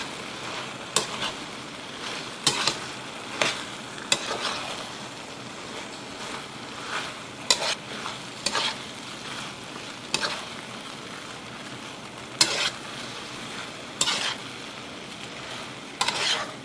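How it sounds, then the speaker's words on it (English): Blanched broccoli being stir-fried in a pan for beef and broccoli, with a steady low sizzle broken by sharp scraping and clacking stirs every second or two, close and alone without talk. "Now I can go ahead and get our blanched broccoli in the pan. And we're going to get that stirred around and well coated."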